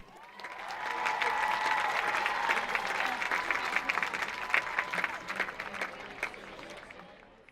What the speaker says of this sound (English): one more round of applause for our winners and all of our finalists